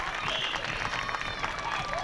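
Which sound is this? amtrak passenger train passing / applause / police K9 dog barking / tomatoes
applause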